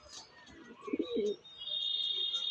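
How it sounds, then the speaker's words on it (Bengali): A twenty-year-old pet pigeon from a home loft gives a soft, throaty coo, one short rolling phrase in the middle over a quiet background, followed by a thin steady high whistle. "প্রচুর বয়স হয়েছে পায়রাটা বন্ধুরা, খুব সুন্দর পায়রা"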